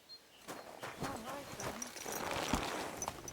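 Horse hooves clip-clop in Kingdom Come: Deliverance II, a quick, uneven run of close thuds under someone talking.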